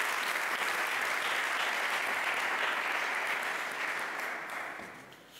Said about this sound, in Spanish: Le damos un fuerte aplauso a Antonio Fumanal.